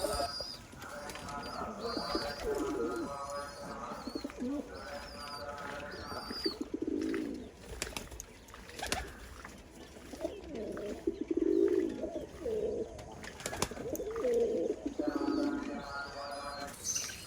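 Domestic pigeons coo in repeated soft, rolling bursts close by while parent birds feed their young, with quieter chirps and a faint voice between the calls.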